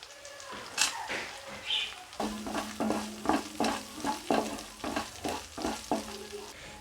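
Pepper, black cardamom and cloves sizzle in oil with ginger-garlic paste while a spoon stirs in regular scraping strokes, close and moderately loud, with crackling frying throughout.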